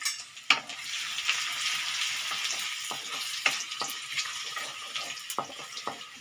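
Chopped onion and green chili sautéing in a pan, a steady broad sizzle with scattered sharp stirring clicks and scrapes, close and fairly loud, no talking.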